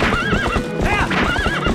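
A horse in The Legend of Zelda: Twilight Princess HD neighs loudly and repeatedly over quick, dense hoofbeats, close and continuous through the whole short stretch.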